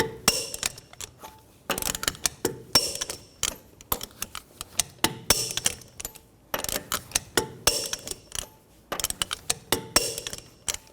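Lug nuts on a 2009-2017 Chevy Traverse being torqued to 140 foot-pounds, repeated bursts of sharp ratcheting clicks in short rhythmic runs separated by brief pauses, close and clear.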